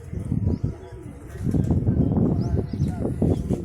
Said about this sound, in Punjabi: ਤਿੰਨ ਕਬੂਤਰ ਫਿਰਦੇ ਆਪਣੇ ਦੋ ਪਾਣੀ ਵਾਲੇ ਆ ਤੇ ਇੱਕ ਦੂਜੀ